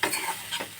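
A spoon stirring tapioca sundal with grated coconut in a pan, with short scraping strokes and a light sizzle, close and clear with no voices.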